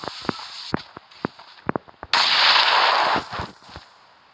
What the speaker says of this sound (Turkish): Bomba düştü gibi.